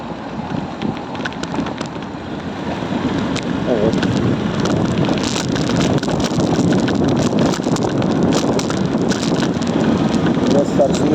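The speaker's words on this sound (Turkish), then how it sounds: "Olduğumuz yoldayım, motosikletimdeyim." Motorcycle riding along a road, its engine drone buried under heavy, steady wind buffeting the microphone, with someone talking over it throughout.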